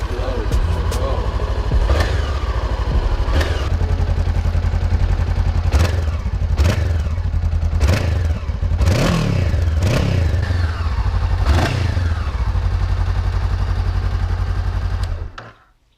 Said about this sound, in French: Donc c'est ma nouvelle moto